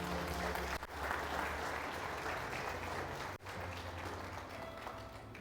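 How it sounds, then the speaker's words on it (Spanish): A church congregation applauds during a Spanish-language sermon, a sustained wash of many hands clapping evenly for several seconds, steady and fairly distant in a large room. "¿Cuántos pueden aplaudir la palabra de Cristo?"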